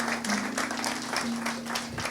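Church congregation applauding during a sermon, a steady moderate wash of clapping with a faint sustained hum underneath.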